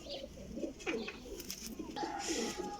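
Pigeons coo softly in a loft of fancy breeding birds, several low throaty calls in a row, faint and close, with quiet background rustling.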